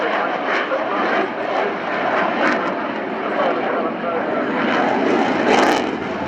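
A Boeing F/A-18 Super Hornet with two General Electric engines flies past at an airshow, a loud, steady jet roar filling the whole stretch while an announcer talks over it.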